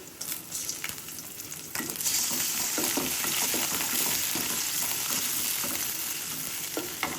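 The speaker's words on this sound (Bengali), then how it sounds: "তো আমি চুলার আঁচটা একটু কমিয়ে চিংড়ি মাছগুলোকে পেঁয়াজের সাথে একটু ভেজে নিব।" Prawns frying with onions in a pan over lowered heat, a dense continuous sizzle with scraping stirs and occasional pops, loud and close with no talk.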